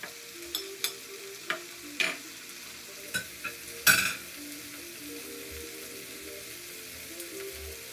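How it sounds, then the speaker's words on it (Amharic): Chopped broccoli and tomato are sautéed in a pan, a soft sizzle running under sharp intermittent scrapes and taps of a utensil stirring against the pan, close and fairly quiet. "ይሄ ብሮኮሊኑ ነው ቲማቲሙንም ይሄ ቲማቲም የተከተፈ አብሬ አቁላላዋለሁ ማለት ነው"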